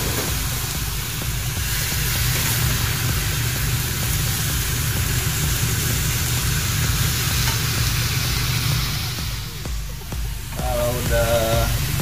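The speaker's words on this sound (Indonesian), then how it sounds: "kita masukin ayamnya, kita tumis bareng bawangnya" Chicken and onions sauté in a pan with a loud, continuous sizzle and hiss, steady throughout, and a short break near the end where a brief voice-like sound comes through.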